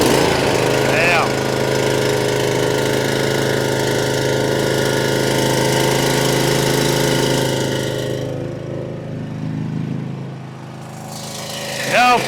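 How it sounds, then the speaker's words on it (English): The Kawasaki V-twin engine of a Cub Cadet Ultima ZT1 zero-turn mower runs loud and close with a steady, throbbing drone, dipping briefly near the end, with a voice speaking over it at times. "we're going to fire up this big Kawasaki V-twin"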